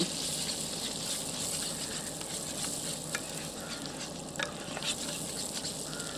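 Scrambled eggs being stirred in a RidgeMonkey pan, a steady close sizzle with scraping and stirring scrapes running throughout, no talk.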